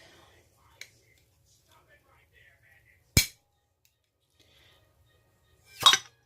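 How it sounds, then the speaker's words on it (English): Can of beans pried open by hand without a lid remover in a quiet kitchen: a faint click, then two sharp, separate metallic pops a few seconds apart, the last one louder and longer. "now I'm going to open these beans"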